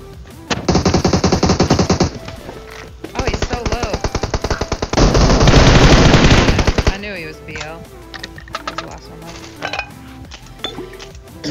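Dense bursts of automatic gunfire in the mobile game PUBG Mobile, long rapid volleys loud and close with short gaps, then scattered single shots and clinks while players talk over the action.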